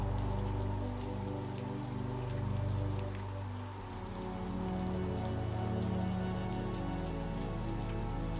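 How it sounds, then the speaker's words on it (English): Steady rain patters against a window glass at a constant, even rhythm, a soft continuous wash with a low background hum, no voices. "Rain on the window, repeating itself."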